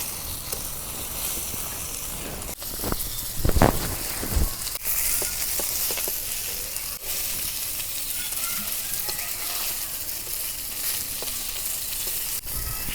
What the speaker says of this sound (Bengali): মাছ ভাজা হচ্ছে, মাছগুলো এখন নামে নিই।